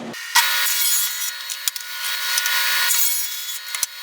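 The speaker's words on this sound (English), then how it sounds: "with my miter gauge set at 45 degrees, I'm going to rip them diagonally." A table saw rips square wooden panels diagonally with the miter gauge set at 45 degrees, giving one continuous, close, bright whining cut of about four seconds that starts and ends abruptly, with no talk.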